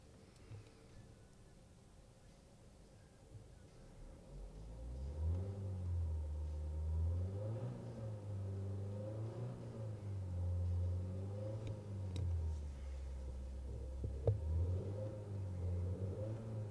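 A 2017 Skoda Rapid Spaceback 1.4 TSI DSG engine fires up and settles into a steady idle, its low rumble swelling briefly in revs before holding level, heard close from inside the car.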